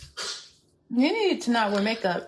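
A single short sneeze close to the microphone, then someone talking right after it.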